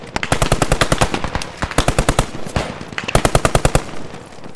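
Rapid machine gun bursts ring out during a building assault in a military video game, several loud automatic volleys with short pauses between them, sharp and close.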